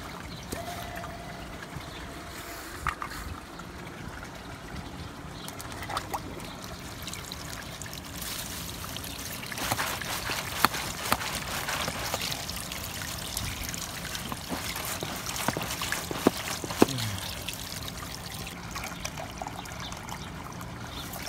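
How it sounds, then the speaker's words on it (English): Water trickling steadily in a garden during watering, a faint continuous dribble and splash with scattered small clicks and ticks, quiet and fairly distant throughout. "are watering the garden"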